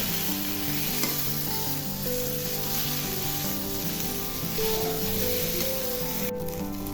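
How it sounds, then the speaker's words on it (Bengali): Taki fish frying in a pan, a steady broadband sizzle with faint stirring and scraping, continuous and close throughout with a brief sharp clatter near the end. "এভাবে উল্টে পাল্টে আমি মাছটাকে ভেজে নিব।"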